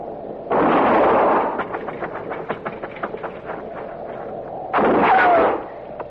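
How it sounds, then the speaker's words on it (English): Gunfire in an old western radio drama: two loud, broad bursts, one early and one near the end, with a rapid train of sharp crackling reports between them, no voices. "I'm going to fire and roll away, maybe draw a shot."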